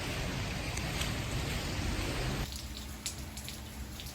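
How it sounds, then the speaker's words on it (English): Heavy rain pours onto a flooded driveway in a Southern California storm, a dense, steady hiss of water with scattered drops and splashes, constant and fairly loud, with no voices. "If that gives you an idea how much it's raining, the whole driveway's flooded"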